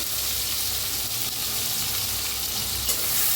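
Garlic and chili paste frying in a pan with mustard seeds, cumin, hing and tomato, a steady close sizzle with soft stirring, loud and continuous, no voices.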